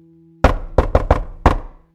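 Heavy knocks strike an entrance door: one sharp blow, then a rapid cluster of three and a final fifth knock, loud and close, over a faint steady hum.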